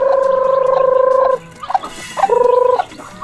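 A chicken being fed gives two loud, drawn-out tonal calls close by, the first about a second long and the second shorter, with soft clucks between them.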